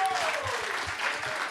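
Audience applause for two football champions, Matthew Lloyd and Matthew Richardson, at a footy show: steady, dense clapping from a crowd filling the whole clip at even loudness.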